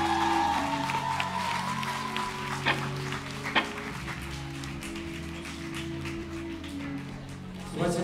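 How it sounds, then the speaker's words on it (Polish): A live concert crowd at OKiR Grodków applauds for Julka, a steady wash of clapping under a lingering band tone, with a couple of sharper taps and some voices mixed in. "Brawa dla Julki jeszcze"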